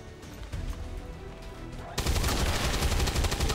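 XCOM 2 sniper gunfire during a base defense, faint muffled shots at first, then a sudden loud crackling burst of rapid fire with sharp repeated cracks.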